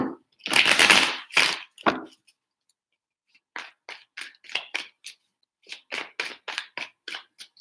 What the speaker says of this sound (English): Three shuffles for Taurus and their person.